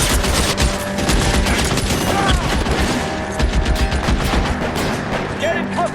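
Sustained automatic gunfire from a Thompson submachine gun in the video game L.A. Noire, loud, close bursts running nearly continuously with a crowded, battle-like mix around them.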